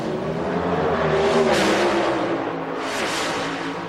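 Drag racing cars at an IHRA Rocky Mountain Nationals race launch side by side, a loud continuous engine roar with two broad surging swells as the cars accelerate away.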